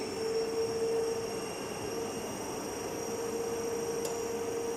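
A DC shunt motor running steadily at rated speed on a lab test bench, giving a constant electrical hum with a whine held at one pitch throughout, fairly quiet and unchanging, with no talk.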